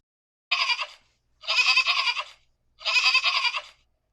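A goat bleats three times in a storybook reading, each call a loud, wavering cry of about a second, spaced by short pauses, heard alone with no talk.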